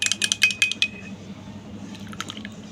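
A spoon stirring tea in a cup makes about six quick, bright clinks against the sides, then settles into a quieter swirl of liquid with a few light taps near the end.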